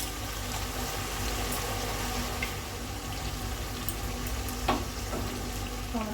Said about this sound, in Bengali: দিয়ে এটাকে ভালো করে এখন একটু ভেজে নেব।